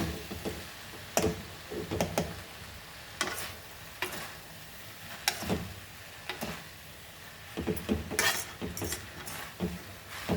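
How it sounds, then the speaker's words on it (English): Two forks tossing and mixing veg Hakka noodles, giving soft scraping and clinking strokes at irregular intervals with light stirring between them, close up. "So you take 2 forks and mix this all."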